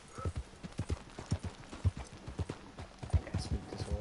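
Horse hooves clip-clopping in the video game Red Dead Redemption 2, a steady trotting rhythm of soft thuds at close range, moderately quiet and unaccompanied by talk.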